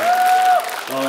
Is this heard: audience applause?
yes